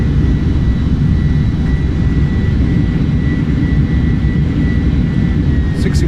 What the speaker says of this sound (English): Nose down gently. Reversers out. Decelerating.